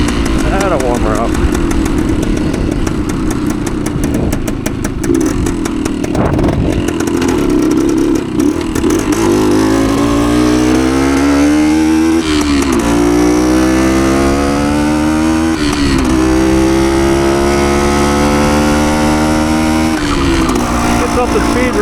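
A 1972 Suzuki TS185 two-stroke motorcycle engine warms up close by, droning steadily and then revving up and down in repeated rising and falling sweeps, loud and continuous.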